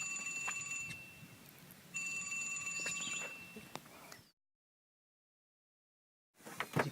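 Two bursts of electronic ringing from a phone, faint and distant, from up on shore during a pickerel fishing outing at Henderson Harbor, followed by a silent gap.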